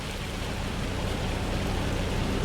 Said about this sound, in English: I don't know if that's just rain. It looks like hail.